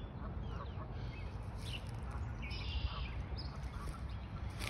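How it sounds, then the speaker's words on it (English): Faint duck quacks sound in the distance over a steady outdoor rumble, with scattered bird calls and no nearby voices. "You hear the ducks in the background"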